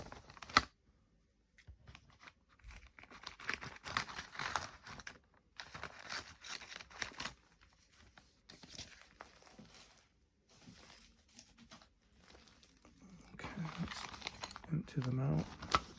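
Plastic bags holding model-kit parts for a 1:8 scale DeLorean build crinkle and rustle in irregular bursts at close range, with brief pauses between handling sounds.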